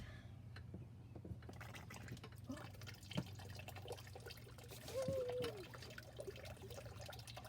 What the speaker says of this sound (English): It's pretty good water flow too, actually, considering that there is that slight bend in the hose.